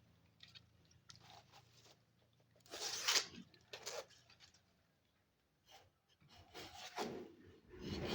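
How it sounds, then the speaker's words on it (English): Straw brooms scraped one after another by hand, giving repeated dry raspy rubbing strokes in bursts with short pauses, close and moderately loud. "bringing out each of the brooms and scraping them"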